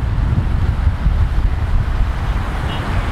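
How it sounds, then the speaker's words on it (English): Strong swirling wind gusting across Dubai Creek golf course, a loud, steady roar buffeting the microphone throughout with no voices. "A swirling wind."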